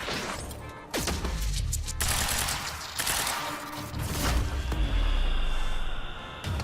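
In the video game Quantum Break, a burst of bullets frozen outside a time shield is released, a loud fusillade of gunfire and impacts with crashing thuds and a sweeping whoosh.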